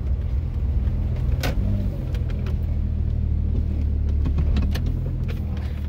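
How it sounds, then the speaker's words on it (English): A Jeep 4.0 engine with a misfire idles close by as a loud, steady low rumble, with a few sharp clicks and knocks over it and no speech. "It's been misfiring, loss of power, loss of gas mileage."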